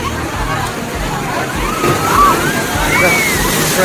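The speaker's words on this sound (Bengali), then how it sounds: "যেমন বড় বড় ঢেউ আসছে দেখো একটা বড় ঢেউ আসছে" Ocean waves at New Digha beach slosh and surge in a steady wash, big waves rolling in, with a busy crowd murmuring in the background throughout.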